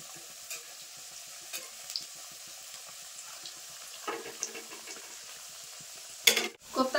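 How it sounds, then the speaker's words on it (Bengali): Soybean koftas fry in oil with a faint steady sizzle, punctuated by soft scrapes and taps as they are turned over, ending in a louder clatter. "এরকম উল্টে পাল্টে লাল লাল করে ভেজে নেবো সব কোপ্তাগুলো"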